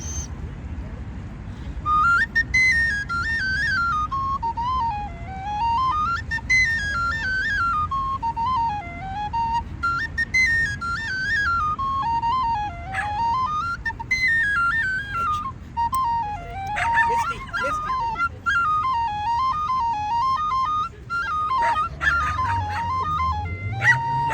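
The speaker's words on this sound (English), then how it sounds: "It's a little cold, so I have to warm up the whistle" A tin whistle plays a lilting, wavering melody almost nonstop, close and fairly loud, over steady wind or outdoor noise in St Patrick's Park, Dublin, on a cold day.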